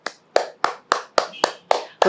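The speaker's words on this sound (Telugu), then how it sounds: "రోజు 100 చప్పట్లు కొడితే బాడీ మొత్తం యాక్టివేషన్ జరుగుతుంది" Bare hands clapping eight times at a steady, brisk rhythm, each clap crisp and close, with no voices in between.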